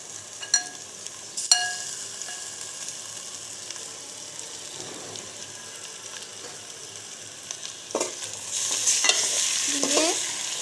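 Marinated chicken pieces sautéing with fried onions in a pan for a curry, a soft steady sizzle broken by scraping stirs and clinks of a spatula, growing louder toward the end.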